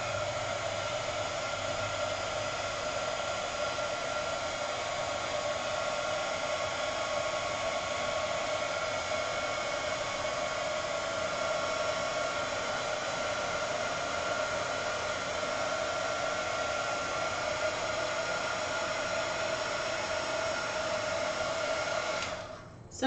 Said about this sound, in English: I'm going to do this heat gun again and see what I get